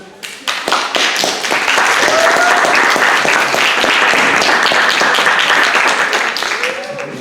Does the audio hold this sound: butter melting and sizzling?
no